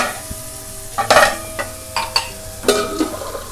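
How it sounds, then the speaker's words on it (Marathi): Potatoes frying in a pan sizzle quietly as water is added, with several sharp bursts of stirring and spoon scrapes against the pan and a brief clink; nobody talks. "आता ह्याच्यामध्ये पाणी घालते"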